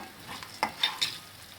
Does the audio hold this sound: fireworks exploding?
no